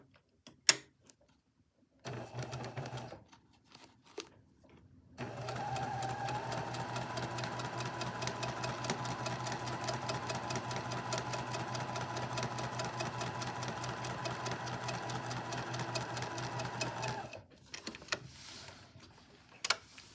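A sewing machine stitches a quilt along a drawn line, running steadily with a fast even mechanical whir for about twelve seconds, framed by brief handling clicks before and after.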